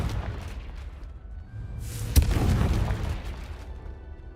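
An explosion from the Confringo spell in the PS5 game Hogwarts Legacy bursts as a single sharp boom that rolls into a rumbling tail over steady background game ambience.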